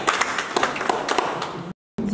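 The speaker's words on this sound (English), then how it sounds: "Can you give a big clap to Madam Asteri?" A group claps for Madam Asteri at a lecturers' session: dense, fairly loud, steady applause with talk mixed in, then a brief silence before the sound resumes.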